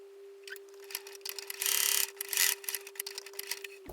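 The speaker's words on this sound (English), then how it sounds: "My walking foot is much more clicky than usual." Sewing machine walking foot clicking rapidly during stitching, a fast irregular train of close mechanical clicks over a steady motor hum, ending abruptly.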